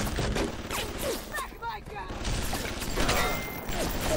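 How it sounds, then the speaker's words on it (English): Enemy gunfire in BioShock Remastered, a dense run of sharp shots and bursts with mechanical clatter and booms through the whole stretch, loud and close, with a voice talking over part of it. "they are shooting at me?"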